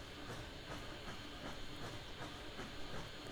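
A K27 narrow-gauge steam locomotive runs in Train Simulator Classic on the Rockwood to Tacoma line, giving a faint, steady hiss of steam with soft rhythmic chuffing and rail clatter throughout.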